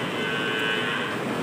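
Cattle moo during natural mating, with a heifer in heat penned alongside two bulls. A loud, drawn-out bovine call fills the moment over steady farmyard noise, with no talking.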